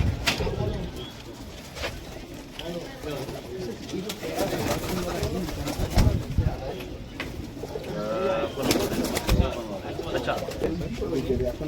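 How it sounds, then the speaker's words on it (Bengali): A Bengali ustad's mature breeding teddy pigeon, kept among high-flyer birds, coos in low, throaty bursts close by, with other birds in the background, while someone talks over much of it. "এটা ওস্তাদজির একটা টেডি পায়রা দেখুন, ধাড়ি টেডি, চোখটা দেখুন"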